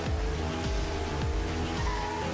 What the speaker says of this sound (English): this is a really hard trailer to tell because it's just crazy car noises.